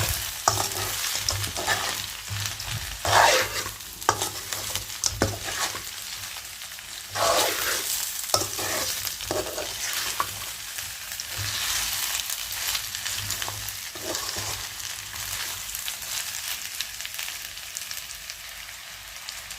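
Spicy Andhra-style chicken fry pieces being stirred in a hot pan, a steady loud sizzle with repeated scraping strokes of the spoon close up, no voices.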